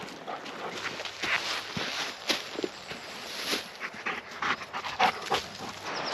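A large malamute pants rapidly and audibly close by, with rhythmic breathy huffs and occasional footsteps on the ground in a forest.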